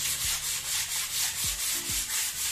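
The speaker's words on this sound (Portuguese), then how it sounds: "Vou terminar de lixar aqui o restante." Hand sanding of an interior living-room wall during renovation, a steady rhythmic rasping of sandpaper in repeated strokes, close and continuous with no talk.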